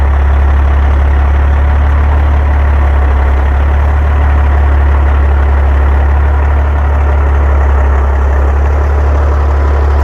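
A farm tractor engine idles during a wheat harvest, a loud, steady low diesel drone that holds unbroken and close throughout, with no voices.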